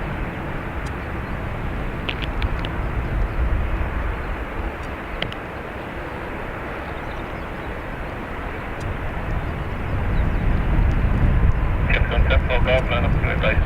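A Ryanair airliner departing on runway 25 at Dublin Airport gives a steady, broad jet engine roar that swells louder toward the end, while someone talks over it throughout.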